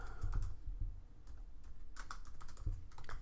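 Computer keyboard typing an HTML5 doctype, a quiet, close run of irregular key clicks in short bursts with no talking.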